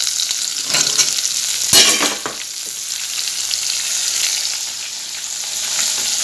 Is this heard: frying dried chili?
yes